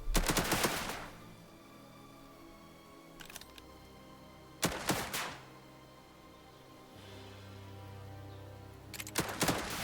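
Bursts of automatic gunfire from the World War II strategy game Headquarters: World War II, three loud rattling volleys spaced several seconds apart with quieter game ambience between them.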